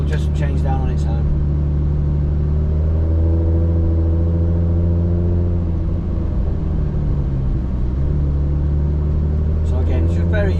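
A Nissan R34 GTR fitted with a ZF 8-speed transmission changes down on its own as it slows, its loud, steady engine drone sinking in pitch partway through, close and continuous.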